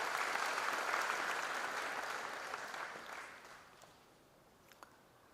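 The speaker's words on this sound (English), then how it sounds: "with your loud applause" Audience applause welcoming a Vice President at a university freshers' induction program, a broad wash of clapping that is strong at first and gradually fades out over several seconds, with a couple of stray claps at the end.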